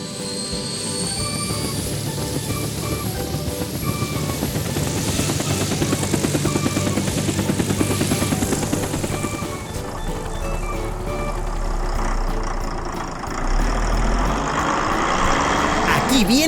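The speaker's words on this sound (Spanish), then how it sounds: "¡Aquí viene el helicóptero!" A helicopter flies with its large main rotor and small tail rotor, a steady loud whirring drone that continues throughout, with a deeper rumble swelling toward the end.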